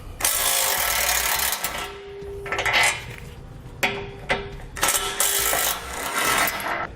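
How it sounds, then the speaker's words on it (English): A 16mm socket on a ratchet clicks and clatters while removing the tow hook bolts from underneath a 2018 Jeep, giving bursts of metallic ratcheting and clinks, close and fairly loud, no speech. "So to start out, we'll grab a 16mm socket. We're going to pull both the bolts from the bottom."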